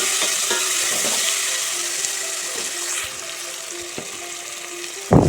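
Onions, curry leaves and small tomatoes fry in a pan with a bright, steady sizzle and occasional stirring scrapes, ending with a sudden louder clatter.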